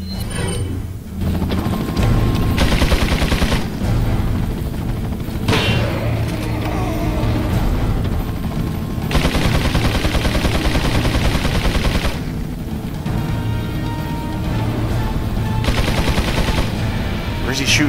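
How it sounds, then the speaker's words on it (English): Repeated gunfire in Resident Evil 4 as a sniper shoots from somewhere unseen, loud and dense, with shots and mechanical clatter layered over a continuous tense game soundtrack for the whole stretch. "Where's he shooting from?"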